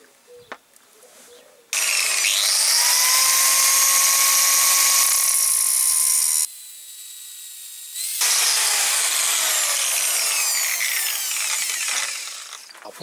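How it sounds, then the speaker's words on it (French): Power grinder cutting a flat onto a seized stud surrounded by aluminium on the engine of a 1955 Panhard Dyna Z1, two long loud shrill grinding passes with a short quieter gap between, close up. "je vais devoir meuler le goujon, faire un plat pour pouvoir le démonter avec une clé"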